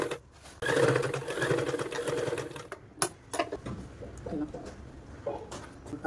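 A sewing machine stitching a dress, heard as a close, whirring mechanical run for a couple of seconds. Shorter bursts of stitching, clicks and handling noises follow, with faint background sounds.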